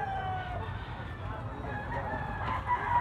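A black leg fighting cock crows at a busy market in Carbon, Cebu: a drawn-out, fairly close call over a steady murmur of background crowd noise.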